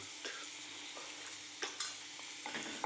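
Turmeric and spices stirred in a hot pan on low flame, a steady gentle sizzle broken by several scraping strokes of a spoon against the pan, close and alone.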